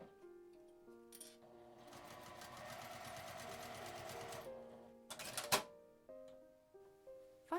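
A sewing machine stitching a fabric pouch runs in a steady whirring burst of several seconds, with shorter runs and clicks around it and light music playing underneath.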